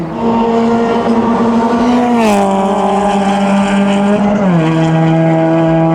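A race car at Clark Speedway during an endurance race accelerates out of the last corner, its loud engine tone rising and dipping with a gear change before holding a strong, sustained drone.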